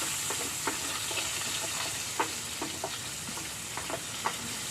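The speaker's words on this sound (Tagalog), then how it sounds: "Dito na rin tayo magigisa ng bawang at saka sibuyas." Garlic and onion sautéing in a pan, a steady soft sizzle with faint intermittent clicks and scrapes of stirring, no talking.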